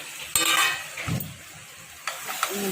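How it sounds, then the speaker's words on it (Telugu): Tomato pieces go into chicken frying in a pan and are stirred, giving a soft sizzle with a few quick scraping stir strokes and light clinks, brief and fairly quiet, no speech. "చికెన్ టమాటా ముక్కలు వేసుకోవాలి."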